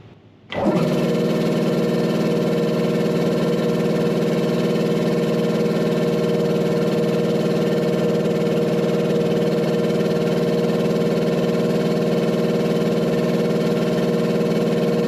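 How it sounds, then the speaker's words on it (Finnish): A homemade big air compressor's electric motor switches on after a brief quiet moment, then runs with a loud, steady, even hum and no one talking. "Moottori toimii."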